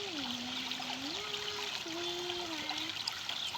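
A small stream of water trickles and babbles over stones, a steady close flow with a faint drawn-out tone gliding above it.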